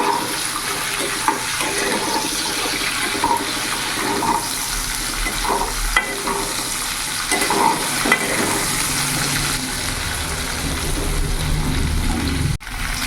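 Onion, capsicum and tomato frying in a pan, a loud continuous sizzle with occasional stirring scrapes, steady throughout.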